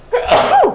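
A single sharp sneeze, close and loud, bursting out and trailing off in under a second, during a town finance committee meeting.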